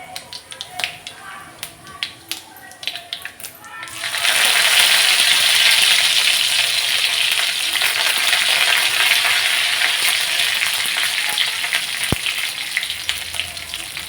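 Cumin seeds frying in hot oil with mustard seeds on an iron tawa, a few sharp pops and crackles at first, then a loud, steady hiss of sizzling that carries on close up to the end.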